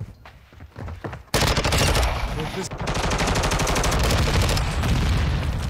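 Call of Duty gameplay gunfire: a few separate shots, then a loud, sustained burst of rapid automatic fire that keeps going, close and dominant over the game's background sounds.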